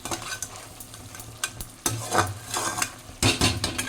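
Prawns cook in a pan, a soft sizzle punctuated by irregular scraping stirs and utensil knocks against the metal, close and fairly loud in short bursts.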